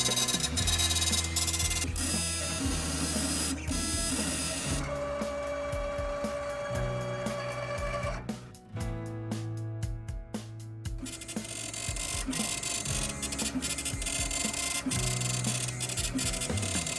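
A Roland MPX-90 impact printer with head cap marks a samurai sword clamped in a vise, giving a steady mechanical buzzing and scratching with tonal whine that shifts pattern midway, briefly pulsing before resuming, continuous and close.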